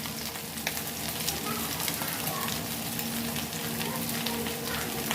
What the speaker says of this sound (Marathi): लोखंडीच्या तव्यामध्ये ना मच्छी पटकन तळली जातात.